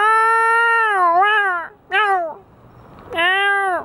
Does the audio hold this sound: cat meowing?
yes